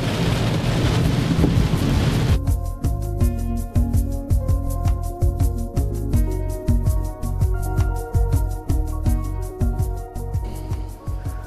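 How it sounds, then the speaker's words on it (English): Heavy rain arrives with a roaring rush, then settles into loud, irregular pattering and drumming close to the microphone, sustained to the end with no talk. "It's raining."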